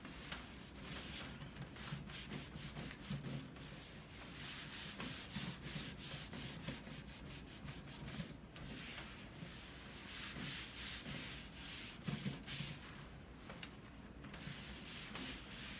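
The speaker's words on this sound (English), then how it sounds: "I can use my sandpaper to help remove it" Hand sanding with sandpaper on wooden furniture being stripped of its old finish, a steady scratchy rubbing of many rapid back-and-forth strokes, close and continuous with no talk.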